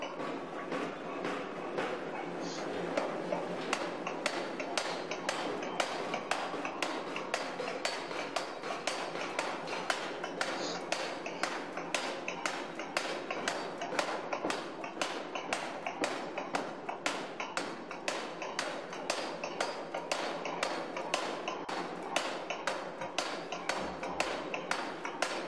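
Repeated hammer blows strike a metal block during hand forging, close and steady, an even rhythm of sharp taps running throughout as the block is flattened into a ring, no talking.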